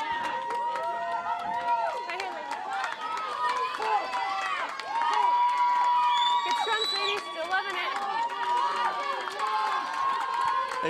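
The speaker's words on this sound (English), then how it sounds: "You can hear the fans on the sideline cheering on our ladies in this championship match" Sideline fans cheer at a women's DII national championship rugby match between Cal State Northridge and Mary Washington, with continuous shouts, whoops and high calls rising and falling over crowd chatter.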